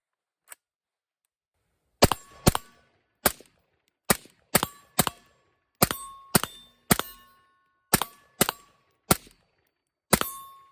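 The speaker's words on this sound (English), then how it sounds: "I'm going to the range and I'm shooting steel targets." Steel targets ring out at a shooting range as a rifle fitted with a laser aiming module fires, about eleven sharp shots with metallic pings in an uneven, fairly quick string after one lone early report, with no talk.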